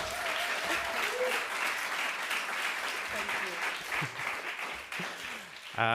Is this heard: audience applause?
yes